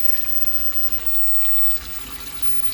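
A steady, faint stream of water pours while an aquarium filter from a failed air pump setup is flushed out, continuous and even throughout.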